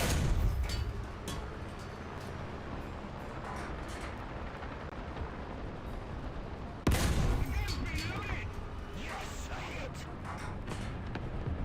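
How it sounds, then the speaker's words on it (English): Artillery and gunfire in War Thunder rumble as dense distant explosions, then a sudden heavy blast near the middle followed by rolling booms, with a voice speaking over it. "The artillery is ready."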